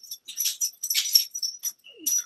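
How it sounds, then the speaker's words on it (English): A dog named Biscuit whining and whimpering up close, with a quick run of high, breathy yelps and squeaks and a short falling whine near the end. "That's my dog."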